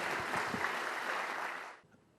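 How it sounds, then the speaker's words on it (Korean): An audience at a Korean policy forum on popular culture and performers' rights claps steadily and densely for about two seconds, then the clapping stops abruptly and leaves a quiet room. "박수 한번 보내주세요"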